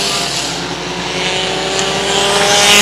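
Race cars battle on a track, their engines a loud, continuous roar that swells toward the end, with no voices heard.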